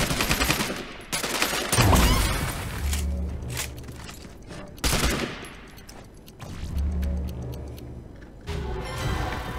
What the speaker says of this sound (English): So you're shooting at us